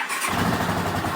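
A rebuilt Honda CX500 motorcycle engine catching after a brief silence, then running loud and close with a rough, throbbing idle.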